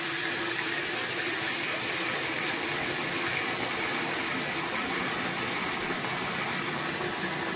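High-pressure water sprays steadily onto a Samsung Galaxy A41 phone, a loud, constant broadband rush that runs unbroken throughout with no talking.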